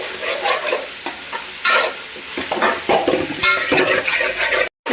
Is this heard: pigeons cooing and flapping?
no